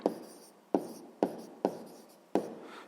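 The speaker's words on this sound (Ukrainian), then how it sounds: "Записуємо тоді відповідь" A maths answer is written by hand with pen or pencil on paper, five distinct scratchy strokes in uneven rhythm, each tapering off, close and clear.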